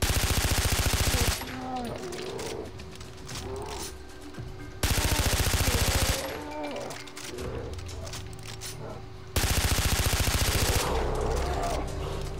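Submachine gun fire in the shooter game Far Cry 3: three long, loud sustained bursts of rapid automatic shots, each lasting a second or more, separated by quieter stretches of game ambience and a voice talking.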